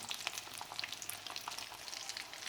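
Sausage sticks fry in a pan with a steady, crackling sizzle, dense bursts of spitting fat spread evenly throughout, fairly quiet and with no voices.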